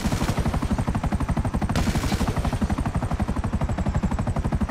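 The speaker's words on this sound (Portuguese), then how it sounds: "Ainda não tinha visto esse helicóptero." A helicopter in the video game GTA V chops in a rapid, steady rotor thump that stays loud throughout, with engine whine layered over it.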